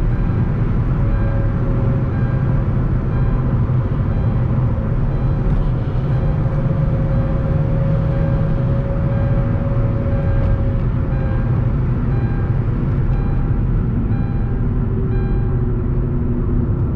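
Kia Rio 1.4 engine drones steadily as the car accelerates on a road at night, a loud constant interior hum and rumble with a faint rising tone and no talking.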